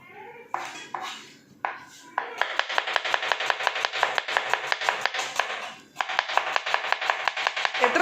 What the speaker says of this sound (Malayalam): സവാള കട്ട് ചെയ്യുന്നതിൽ എക്സ്പേർട്ട്